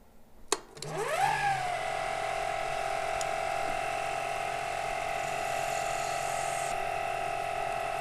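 A metal lathe with the carriage locked down drives a parting tool straight through the workpiece, a replacement humidifier part. A steady, loud whining, grinding tone rises and holds unbroken for several seconds.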